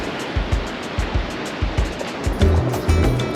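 Ocean waves wash ashore at a beach in Maui, a steady surf with rhythmic low surges rolling in every half second or so, moderately loud and unbroken by talk.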